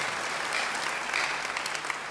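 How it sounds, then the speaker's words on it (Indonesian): Brief applause from a church congregation, a fairly faint, even patter of many hands clapping for a couple of seconds. "Yang percaya beri tepuk tangan yang baik buat dia."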